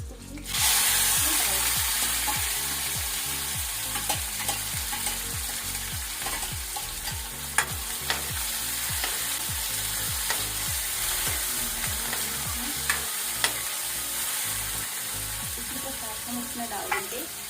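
Chopped onions frying in a pan of already-used pakora oil while making veg noodles, a steady close sizzle with repeated rhythmic stirring scrapes, alone without talk.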